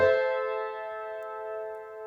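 One sustained piano chord, struck softly and held, decaying gradually for a couple of seconds.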